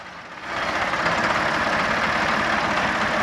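A Belarus tractor idles close by in an open field, its engine a steady low rumble with a dull knocking texture that holds even and loud after a quieter first half-second.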